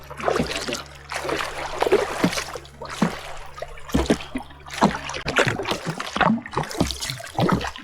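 Solo kayak paddling on Lake LaBerge on the Yukon River, rhythmic close splashes and swishes of the paddle entering and pulling through water roughly every half second to second, with drips between strokes.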